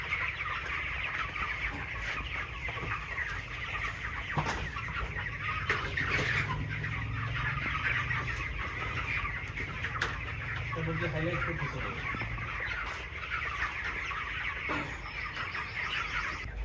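Chickens on a poultry farm cluck steadily under constant barn noise, with scattered calls rising over a dense flock murmur throughout.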